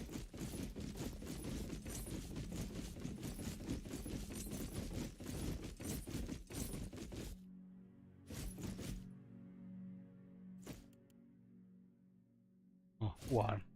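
A rapid volley of magic missiles fired in the game Pillars of Eternity: Deadfire, a dense run of sharp clicking impacts lasting several seconds, then sparse tinkling clicks and a final burst against near silence.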